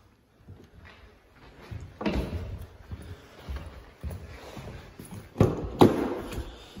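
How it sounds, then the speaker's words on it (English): The rear centre armrest of a BMW 730d folds and closes down into the leather rear bench seat, with a few close, soft thuds and clunks spread over several seconds and no talking. "Remote controls present in the centre armrest, which then closes down"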